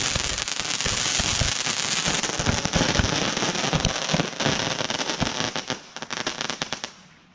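Fireworks on the Fourth of July bursting in a rapid, machine-gun-like string of loud crackling pops, close by, the volley thinning into scattered bangs before stopping.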